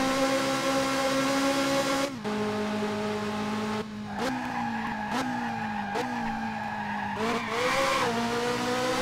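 Ferrari F355 race car in the Dreamcast game F355 Challenge, its engine a loud steady high whine that drops at gear shifts and climbs again several times as the car accelerates.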